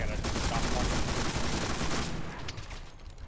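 Dense bursts of automatic and rifle gunfire from a World War II battle in the game Enlisted, loud and continuous, thinning out toward the end.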